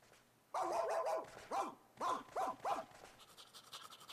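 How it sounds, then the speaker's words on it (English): In Kingdom Hearts 2, a dog lets out a quick series of about five short barks and yips, clear and close against a quiet background. "What a strange dog."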